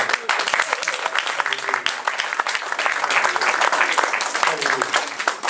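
A church congregation applauds in a dense, sustained burst of clapping with voices mixed in, filling the room close by.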